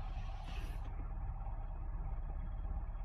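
A Lada Niva Legend engine with about 20,000 km idles with the hood open and a knock in the motor, giving a steady, close low rumble with no voices.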